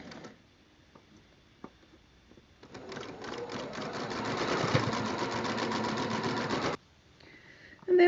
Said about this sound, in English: trying not to warp or stretch my fabric as well when I'm sewing